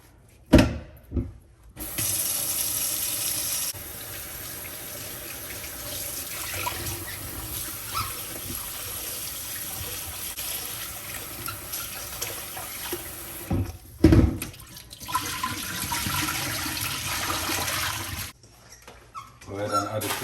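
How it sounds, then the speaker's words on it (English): Tap water runs steadily into a sink while fresh beef is rinsed for a Jamaican-style beef stew, a continuous splashing rush broken by brief pauses and clatters, with a dog barking faintly in the background. "I'm also gonna go ahead and wash my fresh beef"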